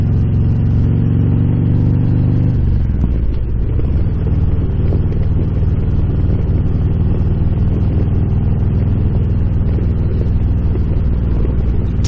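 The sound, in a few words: Harley-Davidson Road Glide motorcycle riding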